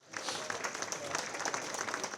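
Gala guests at a formal ball give a round of applause, a steady crackle of many hands that swells in quickly and stays even for a couple of seconds.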